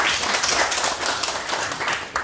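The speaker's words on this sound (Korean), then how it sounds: "박수 한번 해주시고." An audience at a church gathering claps in a steady, dense patter, moderately loud and continuous with no clear talk over it.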